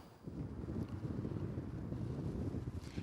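Strong wind buffets an outdoor microphone in Switzerland during a live report, a steady low roar with gusty rumbling that fills the whole span without any speech.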